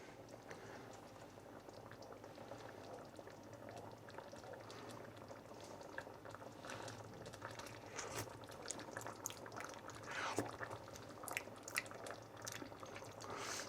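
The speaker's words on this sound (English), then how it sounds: "we're just coming to the boil now" Chicken and broccoli pie filling simmering up to the boil in a pot, a steady close bubbling with small pops and gurgles that grow livelier toward the end, no talking.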